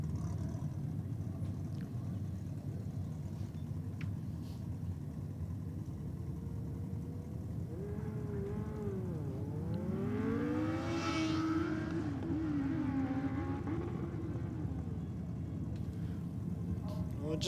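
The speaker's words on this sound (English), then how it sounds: "Next up on track, we've got Joe Borg on board the Kawasaki ZX14." A Kawasaki ZX14 drag racing motorcycle makes its run at a nitro drag racing event, a rising engine whine sweeping up and fading with distance over steady crowd and track rumble, with an announcer talking throughout.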